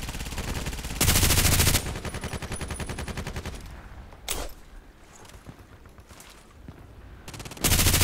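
Bursts of RPKT machine gun fire in the video game Contract Wars, a loud sustained volley near the start and another at the end, with a single sharp shot and quieter ambient game sounds between.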